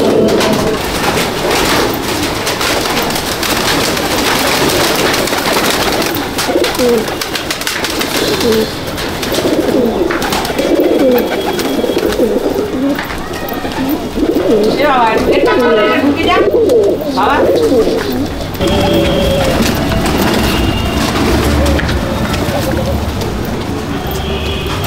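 Madrasi pigeons fill a loft with dense overlapping cooing and throaty calls, close and loud, along with wing flutters and scuffling; someone talks over them at times.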